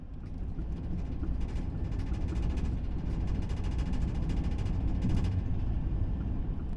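Steady low rumble of an Italian high-speed train in motion with poor ride quality, shaking often, with a continuous rolling roar and rattling, heard from inside the carriage, no voices.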